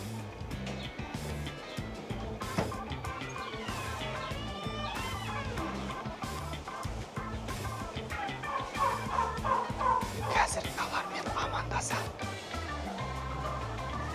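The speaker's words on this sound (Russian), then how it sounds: "Сейчас там все-таки уже такие состоявшиеся индюки." Turkeys on a turkey farm gobble repeatedly, a busy chorus of warbling calls from several birds at close to middle distance, with a brief human voice in the background.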